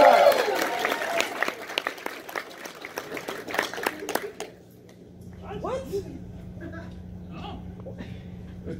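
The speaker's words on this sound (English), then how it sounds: "Everyone give a round of applause for Serathin." Round of applause from a convention audience at a furry con party-games panel, dense clapping for about five seconds that thins into scattered claps and murmuring crowd voices.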